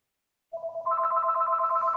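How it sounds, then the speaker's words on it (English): A mobile phone starts ringing after a short silence, a close, loud electronic ringtone that begins as a simple tone and swells into a fuller sustained melody, with no one talking over it. "That's my phone, unfortunately."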